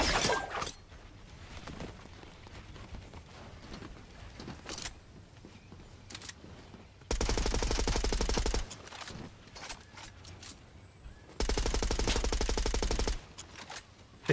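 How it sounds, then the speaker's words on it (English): Gunfire in Fortnite Chapter 5, with loud bursts of SMG fire in two long stretches and quieter scattered game sounds between them. "This SMG goes wild."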